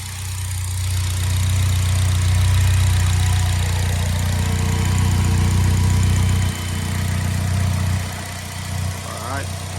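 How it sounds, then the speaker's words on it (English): A 2015 Polaris Slingshot with about 1,000 miles idles after a completely cold start, its engine giving a steady, loud low rumble that dips slightly toward the end. "Completely cold. The engine just sounds like new."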